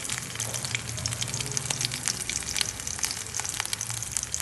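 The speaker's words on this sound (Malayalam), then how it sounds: "കറിവേപ്പില ചേർത്ത ശേഷം നമുക്കിതിലേക്ക് വെളുത്തുള്ളി ചേർക്കാം" Curry leaves and garlic frying in hot oil with mustard seeds for a green plantain thoran, a dense steady sizzle with crackling pops throughout, close and continuous, no voices.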